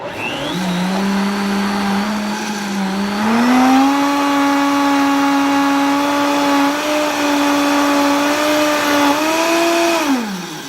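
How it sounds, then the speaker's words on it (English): A Vitamix blender grinds soaked flax seeds into a paste with a loud, close whine. The pitch climbs as the motor speeds up, holds steady for several seconds, then drops away as it shuts off. "I'm looking for the cover to my Vitamix. And this is going to make a little bit of a noise"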